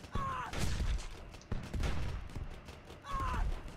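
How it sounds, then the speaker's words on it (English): Cannon and machine gun fire in the steampunk tower defense game Steampunk Tower 2: three bursts of rapid, crackling gunfire, each opening with a sharp blast and a brief mechanical whine, at moderate loudness. "Fire machine guns. Break that armor down."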